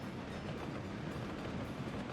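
Train in Workers & Resources: Soviet Republic, a steady low rolling rumble with faint clatter, continuous and moderately quiet, with no speech.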